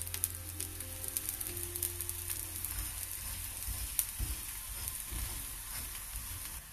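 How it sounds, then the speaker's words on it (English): A whole green moong dal paratha, a flatbread of green gram, roasting and sizzling steadily on a hot pan as it is turned to cook both sides, with soft crackles and occasional sharper pops. "Now we'll turn and roast on both the sides properly like this."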